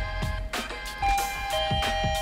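A doorbell chime on a Smart Lock X5 PRO plays a sequence of bright ringing tones, close and fairly loud, with lingering tones between the notes.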